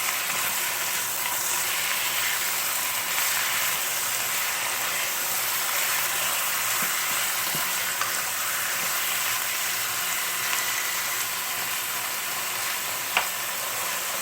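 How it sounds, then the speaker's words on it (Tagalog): Chicken pieces sizzle in a pot for chicken tinola, a dense, even frying hiss held throughout with occasional faint clicks from stirring, no talking. "Lalagay na po natin yung chicken. Tapos, halo-haluin lang po natin to hanggang mag-brown."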